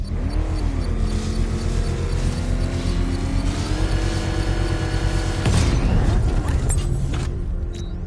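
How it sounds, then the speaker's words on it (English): Batman Arkham Knight game scene with a power winch triggering a controlled bomb explosion: a steady mechanical engine-like whine and rumble builds, then a heavy boom bursts past the midpoint before the noise settles. "I can use the power winch to trigger a controlled explosion."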